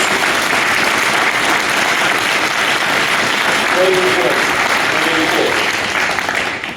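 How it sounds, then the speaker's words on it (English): Audience at a domestic violence gun bill signing giving a sustained round of applause, loud and continuous throughout, with a brief spoken remark over the clapping. "let's give all of us a round of applause"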